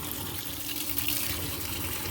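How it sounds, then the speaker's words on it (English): Warm tap water runs steadily into a sink for cleaning a trumpet, a constant close rushing splash with no pauses or talk. "And we turn on just warm water."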